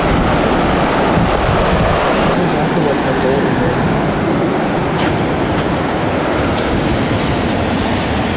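Surf rolling onto a beach near Santa Barbara, heard as a loud, steady roar of waves with heavy wind buffeting the microphone throughout and no distinct breaks.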